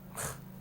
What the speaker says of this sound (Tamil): தும்மலோடு ஆரம்பிக்கிறோம்